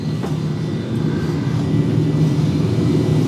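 Airliner engines spooling up to takeoff thrust during the takeoff roll, a steady broad roar with a low rumble that grows gradually louder over a few seconds, heard continuously with no speech.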